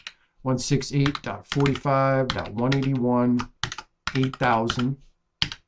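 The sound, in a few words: typing on a computer keyboard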